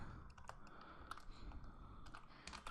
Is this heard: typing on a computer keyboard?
yes